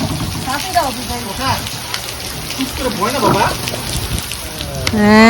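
Rain patters steadily on umbrellas and nearby surfaces while people talk close by beneath it during a downpour.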